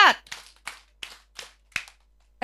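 A group of adults at a kindergarten orientation session plays a counted clapping game, producing a series of about six short, crisp group claps spaced at a steady beat, each separated by brief silence.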